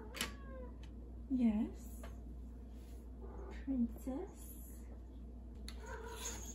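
A house cat meows twice indoors, two short, rising calls close by and fairly quiet, with a person talking softly in between.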